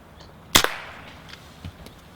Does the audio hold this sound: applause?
no